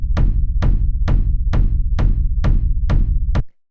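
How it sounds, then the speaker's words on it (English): A layered raw techno kick drum, a deep bass layer beneath a punchy attack, thumps eight times in a steady four-to-the-floor pulse, loud and dry, then stops abruptly. "the first thing I have going on here is this kick"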